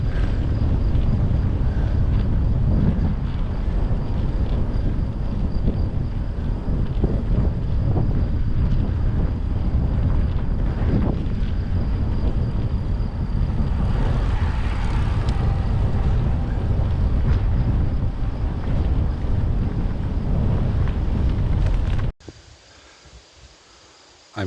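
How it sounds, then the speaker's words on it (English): Strong wind buffeting the microphone while cycling on an open road near the Slovakia–Hungary border, a loud continuous roaring rumble with gusty swells that cuts off abruptly near the end, leaving quiet. "Still open and still windy."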